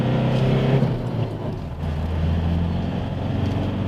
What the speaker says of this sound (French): on arrive sur l'autoroute, donc on va essayer de voir ce que donne le moteur